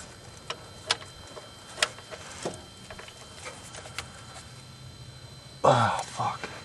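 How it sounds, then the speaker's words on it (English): A 1/2-inch drive ratchet turning an 18 mm socket on a 6-inch extension against a stuck front differential drain plug on a Chevy Trailblazer, giving faint irregular clicks followed by a louder grinding burst near the end, under a speaking voice. "I have an 18 millimeter socket on like a, I think it's a 6-inch extension with a 1/2-inch drive ratchet"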